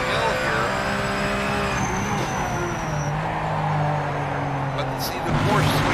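A BMW race car engine roars in a racing video game, a loud continuous drone whose pitch rises and falls as the car accelerates and shifts, with hints of tire squeal.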